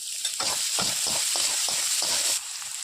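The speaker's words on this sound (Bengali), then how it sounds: "পেঁয়াজটাও দিয়ে দিচ্ছি আর মরিচ কুচানো আর আদা কুচানোটা একসঙ্গে দিয়ে দিলাম, দিয়ে একটু ভেজে নেব।" Eggplant frying in a pan with onion, chopped chili and ginger gives a close sizzle broken by quick stirring scrapes in an uneven rhythm. It quietens near the end, with no voices.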